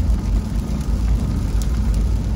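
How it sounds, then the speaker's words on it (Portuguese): Rain falls steadily outside a moving car, a dense, even wash of patter blended with low road rumble, continuous and fairly loud throughout. "É que está chovendo"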